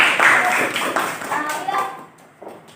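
Children in a classroom clap for their classmates in a lively burst of hand claps mixed with young voices, thinning out and fading toward the end.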